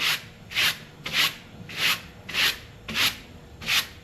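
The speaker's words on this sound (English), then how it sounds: "let's get the old whisk broom here" A whisk broom sweeps debris off a century-old C.T. Ham top-lift lantern in seven steady, evenly spaced bristly strokes, close up and fairly soft, with no talking.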